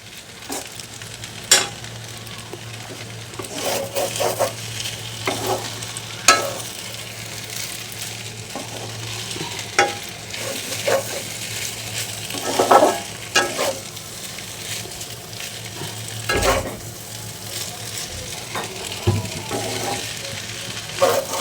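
Noodles with winter vegetables stir-fried in a pan, a continuous close sizzle broken by repeated scraping and clattering strokes of a spatula, no talk.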